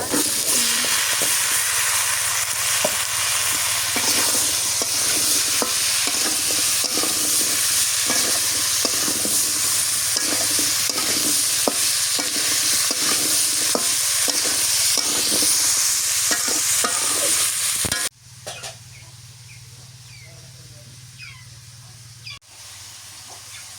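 Potatoes and radish with chili powder being stir-fried in a pan, a steady loud sizzle with repeated scraping strokes of the spatula for most of the time, then dropping to a quieter hiss near the end.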